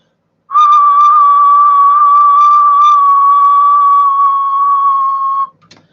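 A single steady, loud whistle held for about five seconds at one pitch, close to the microphone on a Stryker 955 radio, then cut off, followed by a faint click.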